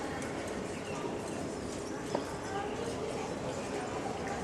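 Percheron cross police horses at a mounted police open day troop drill, hooves clip-clopping steadily at a walk under continuous outdoor crowd murmur, with a faint bird call.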